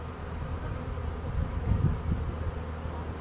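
Agitated honeybees buzz in a continuous, soft, low drone during a hive inspection while being brushed off a frame, swelling slightly midway with no voices.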